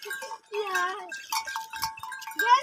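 Goats being sold at a livestock market bleat in quick wavering cries, loud and close, with people talking around them.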